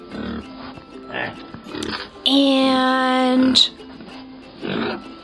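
Pigs oinking on a farm in a children's cartoon, one long drawn-out tonal squealing grunt in the middle, framed by people talking before and after.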